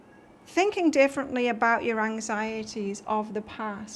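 A cat meows repeatedly in a string of drawn-out, rising and falling cries, close and clear, while a person keeps talking over it.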